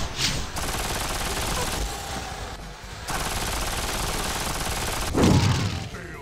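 Sustained rapid gunfire aimed at a boss in the shooter game Will Rock, a dense continuous barrage with a brief pause near the middle and a heavy low blast toward the end.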